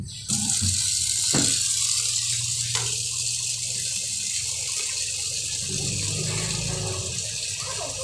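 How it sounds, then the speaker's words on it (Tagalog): Water gushes steadily into a can, a constant rushing pour that runs the whole time, close and fairly loud. "Dito ko po siya ilagay yung tubig sa lato na ito"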